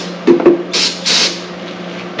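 A few short bursts of aerosol spray hissing into the engine of a seized Honda TRX 200X ATV, close by, with clicks and handling noises between the sprays.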